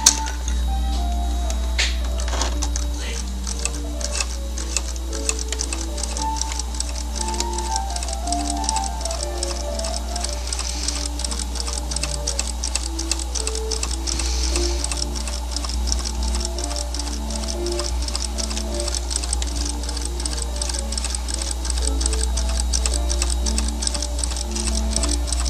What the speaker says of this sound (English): the first thing we're going to do is stay stitch around the neck.